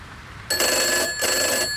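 A telephone bell rings in two loud, close bursts, the second starting just after the first breaks off, with no talking.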